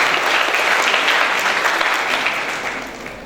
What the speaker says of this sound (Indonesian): Beri tepuk tangan untuk Mbak Lisi